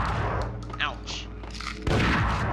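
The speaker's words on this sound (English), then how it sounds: "Sawed-off shotgun. Oh god, and he's pretty accurate with it." Sawed-off shotgun blasts in the video game Max Payne, a heavy boom near the end over constant game noise and rumble, with a person talking over the action.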